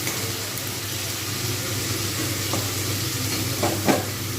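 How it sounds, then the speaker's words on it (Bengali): Chicken pieces for Hyderabadi dum biryani fry in a hot pan, giving a steady, close sizzle throughout with a few brief scraping stirs near the end. "এবার আমি কিন্তু মাংসটা দিয়ে দিলাম এবার এটা কিন্তু ভালো করে ভাজবো"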